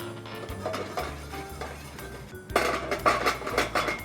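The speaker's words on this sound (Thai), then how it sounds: "อีกหม้อหนึ่งนะครับ เราจะใช้พริกชวงเจียนะฮะหรือพริกเสฉวน ลงไปคั่วให้หอมครับ" Sichuan peppercorns dry-roasting in a pot on a stove, heard as close, irregular metallic clinks and scraping knocks of a utensil stirring against the pot, growing busier and louder toward the end.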